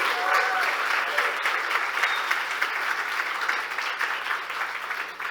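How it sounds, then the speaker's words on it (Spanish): Congregation applauding the Lord during a church service, a dense sustained wash of clapping from many hands that stays loud and steady throughout, with no one speaking over it. "Dale un fuerte aplauso al Señor"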